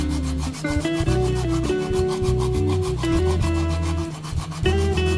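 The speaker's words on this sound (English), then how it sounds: "grate some nutmeg in here, right? Now this grater is the grater I use to grate the ginger." Whole nutmeg rubbed on a hand grater for a batch of Jamaican coconut drops, steady rasping strokes close by, with music playing underneath and no talk.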